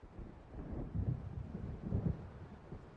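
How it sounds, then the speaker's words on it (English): Low thunder rolls from an approaching storm in the video game Alan Wake, two soft rumbling swells about a second apart over a quiet windy background, fairly faint and distant. "It seems there's a storm coming."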